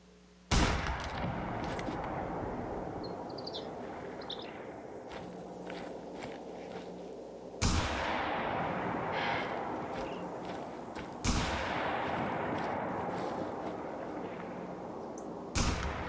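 Three loud rifle shots ring out in The Hunter: Call of the Wild, spaced several seconds apart while hunting a bison, each sharp crack trailing into a long echoing decay over quiet outdoor ambience.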